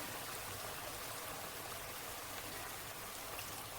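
Water is poured into lentils in a cooking pot, a continuous soft splashing hiss that holds steady and faint throughout.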